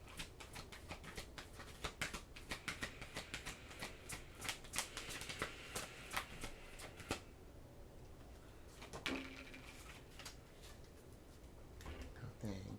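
Oracle cards are shuffled by hand in a quiet room, soft rapid riffling and patter in bursts over several seconds, then a pause and a few lighter card slides, close but faint.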